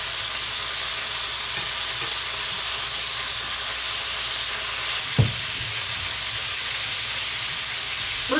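Chicken thighs fry in a hot pan, giving a steady loud sizzle and hiss with a sharp clatter partway through as something is moved in the pan.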